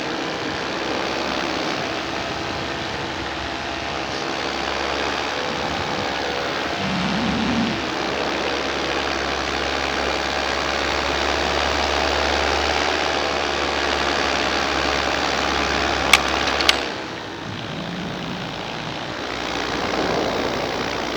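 A four-stroke paramotor engine drones steadily in flight, a continuous propeller hum with even, sustained loudness, broken near the end by a brief sharp tick as something strikes the prop before the tone briefly dips.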